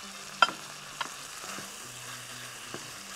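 Okra stirred together with tomato sauce in a pan: a few soft spoon scrapes and taps over a faint, quiet sizzle, close by and without talk.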